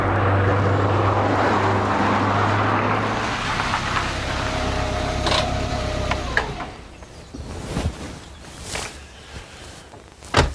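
A Lancia Delta Integrale, a four-wheel-drive car with a 2-litre four-cylinder engine, holds a steady, fairly loud drone for several seconds, then drops away to quieter mechanical clicks and rustles.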